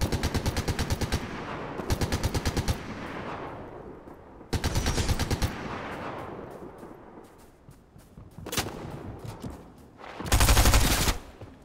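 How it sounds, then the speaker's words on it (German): Bursts of rapid automatic gunfire in Fortnite crackle in several volleys, with pauses and fading echoes between them, ending in a loud, dense final burst. "Die sind relativ nah, diese Schüsse"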